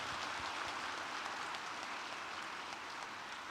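Audience applause at a university graduation ceremony, a dense, even wash of many hands clapping together, steady and distant like rainfall, with no distinct individual claps.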